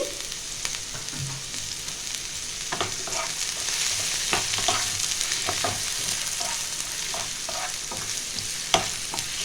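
Finely chopped onion frying in hot oil in a pan, a steady close sizzle with scattered crackles and light stirring scrapes throughout, no talk.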